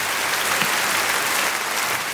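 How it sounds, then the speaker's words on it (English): A crowd breaks into dense, continuous applause with some cheering, a steady wash of clapping throughout. "They're cheering that you made it here."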